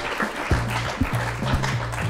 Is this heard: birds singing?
no